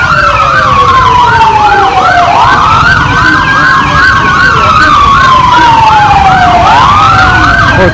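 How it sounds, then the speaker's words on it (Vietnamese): A loud fire engine siren sweeps up and down repeatedly nearby at a market, with a second siren tone layered over traffic rumble. "xe cứu hỏa rút vào đây thì không có đường đi này"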